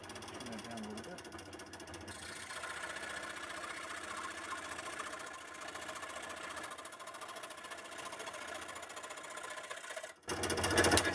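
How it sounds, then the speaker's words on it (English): A saw cuts the end off a wooden walking stick flute with a steady, buzzing mechanical drone. It runs continuously for several seconds at moderate loudness, then a louder burst comes just before the end. "first we're going to cut the end off of this guy where we marked it"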